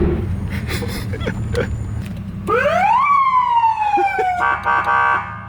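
A loud electronic siren rises and falls in wailing sweeps, close by, rising over the low rumble of an engine and background noise.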